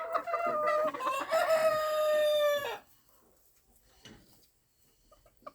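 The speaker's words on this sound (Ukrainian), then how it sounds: "Там півень он заглядає, дивиться." A bantam rooster crows loudly nearby for a few seconds, then stops, leaving quiet background with faint clucking of bantam chickens.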